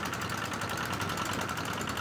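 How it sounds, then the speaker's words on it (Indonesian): A Kubota diesel engine runs steadily while driving four blowers through V-belts, producing a continuous dense mechanical drone with rhythmic knocking pulses, close and constant with no talking. "Jadi satu mesin untuk 4 blower ya."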